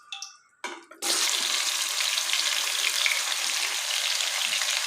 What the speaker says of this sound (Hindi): इसको अच्छी तरह चिकन को ऑयल में हमने फ्राई कर लेना है